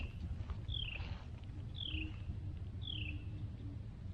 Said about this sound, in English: Can you hear the owl?